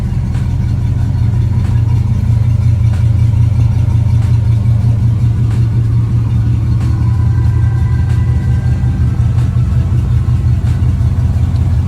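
A bagged 1955 Chevy truck with a chromed 350 engine and 350 turbo transmission running at idle, a loud, close, steady low rumble with a slightly uneven lope.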